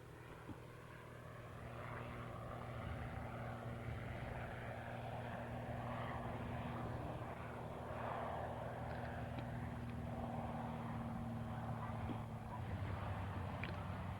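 An agricultural top-dressing aircraft, a stable low-speed tail-wheel plane, flies past at an air display, its propeller engine droning steadily with a low hum throughout, moderately near and continuous with no talk.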